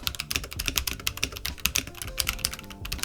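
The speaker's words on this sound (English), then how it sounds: "You can hear like the difference in the keycaps mostly because this is more of like a rattly sound to it" Steady, fast typing on a Corsair K65 Plus keyboard with rattly keycaps, dense close-up clacks running continuously with no voices.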